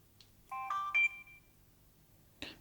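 An Insta360 camera powering on gives a short rising chime of a few bright electronic tones, clear and close in a quiet room, followed by a faint brief click.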